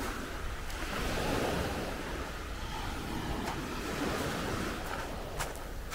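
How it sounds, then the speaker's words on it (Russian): Sea waves wash steadily onto a beach at a resort on the Antalya coast of Turkey, a continuous rushing surf with light wind noise and no talk. "Море."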